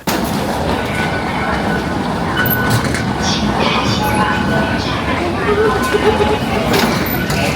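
A Taipei metro train ride, with a steady, loud rumble of wheels on track and a broad rolling hum that fills the whole stretch, a few faint clanks and squeals rising above it.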